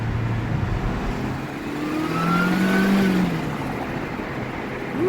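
A Mercedes-Benz C-Class W203 with a modified exhaust accelerates in first gear, its engine note climbing steadily at moderate distance under a constant roar, with no talking.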